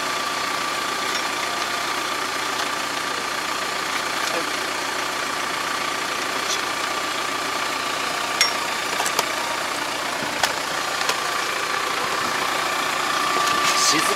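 A Kubota MZ775 tractor engine runs at a steady drone in a field where stones are being picked, with a few faint clanks over the constant noise.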